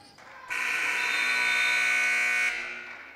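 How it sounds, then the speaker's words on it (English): A loud, flat electronic buzzer blares for about two seconds at the end of a women's college basketball game, then cuts off, leaving a fading reverberant arena hum. "the final buzzer goes off"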